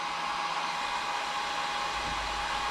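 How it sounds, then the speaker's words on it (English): A hair dryer drawing 1.2 kilowatts from a DIY LiFePO4 battery power station runs with a steady, even whooshing hum for the whole stretch, nothing else audible. "the hair dryer going at the same time"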